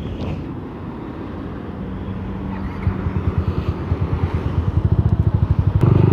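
Yamaha Jupiter MX motorcycle fitted with a 62 mm BRT bore-up kit, engine idling with a low rumble, then a revving, pulsing putter that grows louder and more rhythmic toward the end, close and alone.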